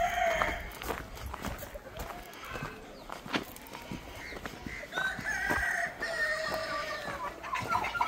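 Free-range desi chickens on a poultry farm near Pune cluck in a busy, overlapping chorus, with a rooster's drawn-out crow rising partway through and faint voices in the background.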